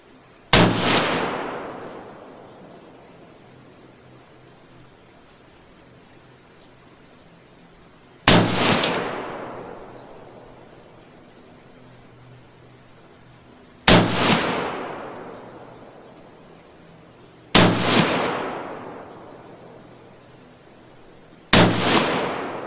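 Five loud, sharp rifle shots of Tula 75 grain .223 ammunition ring out outdoors, each a sudden crack with a long decaying echo, spaced several seconds apart with silence in between.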